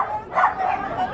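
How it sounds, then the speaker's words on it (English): Small wiener dogs yip and bark at a dog racing event, a short burst of excited barking heard up close over background crowd noise. "Dang, there's so many dogs here."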